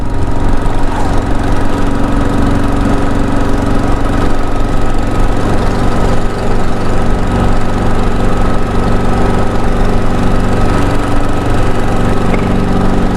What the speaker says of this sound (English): Kind of hear my air leak there too.